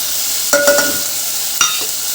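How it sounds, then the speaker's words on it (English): A spoon stirs spices in a frying pan over a steady sizzle, with a few short scraping strokes against the pan. "you have to mix all the spices which you are going to mix"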